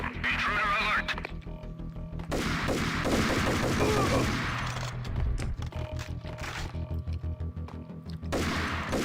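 Sustained gunfire in the Max Payne video game, with dense bursts of shots and automatic fire running nearly continuously under loud game music and effects, a few brief pauses between volleys.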